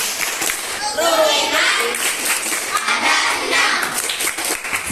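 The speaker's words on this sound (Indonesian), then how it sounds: "Tepuk rukun iman." Schoolchildren at a Ramadan school program in an Indonesian elementary school clap in quick rhythmic bursts with their hands, close and fairly loud, mixed with children's chanting voices.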